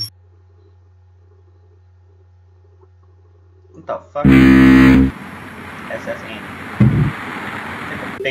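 A loud, deep boat horn blast sounds for about a second after near silence, followed by a noisy background of voices and another brief low honk.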